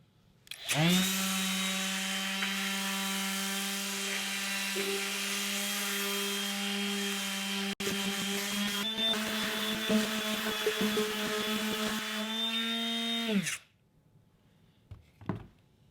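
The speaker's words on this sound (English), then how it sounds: "I guess we'll try sanding them." A steady, loud mechanical whine of a power sander on glued cherry wood boards running continuously for about thirteen seconds, with rubbing texture, then cutting off into near silence.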